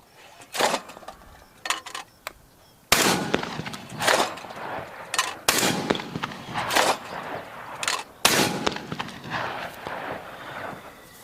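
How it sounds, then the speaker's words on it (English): Browning Maxus 2 shotgun firing outdoors, a series of sharp loud blasts spaced a second or two apart, each cracking and trailing off into a brief echo. "I'm going to put a couple of shots downrange"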